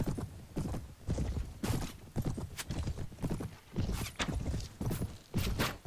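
Horse hooves clip-clop in the Mount & Blade video game, a steady walking rhythm of hard, hollow strikes close by with a faint whinny in the background.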